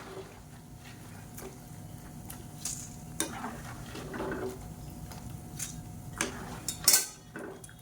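Ribbon pakoda frying in oil over a medium flame, the sizzle settling to a soft, steady crackle, with occasional clinks of a metal utensil and pan nearby.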